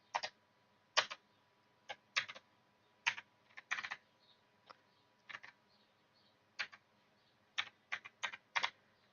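Computer keys clack in irregular bursts, short clusters of taps separated by pauses, close and crisp against a quiet background.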